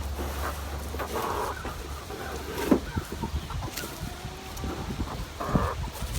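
Chickens cluck here and there in a busy outdoor setting, with a low engine-like hum underneath and scattered knocks.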